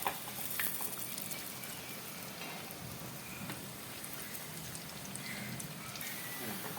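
Toor dal bondas fry in hot oil over a medium flame, giving a soft, steady sizzle with scattered fine crackles, quiet and even throughout.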